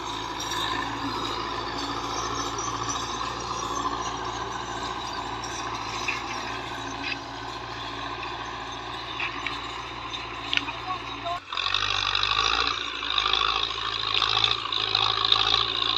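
A Belarus tractor engine drones steadily while pulling an 18-disc harrow through a field, a constant loud rumble with a brief dropout near the end before resuming harsher.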